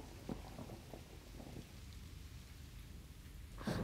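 Heavy rain falls steadily outside at night, a dense even patter with a louder burst of rain noise near the end.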